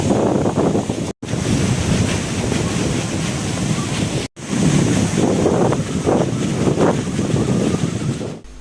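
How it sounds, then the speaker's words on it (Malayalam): Strong sea waves surge and crash on Kumaranpadi beach during rough coastal weather, a loud continuous roar of surf with heavy wind buffeting the microphone and brief dropouts. "ഞായറാഴ്ച രാത്രി മുതലാണ് വീട്ടിലേക്ക് ശക്തമായ തിരമാലയിൽ വെള്ളം ഇരച്ചു കയറിയത്."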